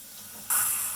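Rice being rinsed by hand for congee under a running tap, a steady watery hiss that starts abruptly halfway through and stays loud and close to the end.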